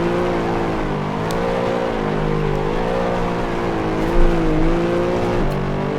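A Mercedes AMG SLS engine drifting in a racing simulator game, a steady loud droning growl with a wavering pitch as the car slides, plus a brief bump near the end.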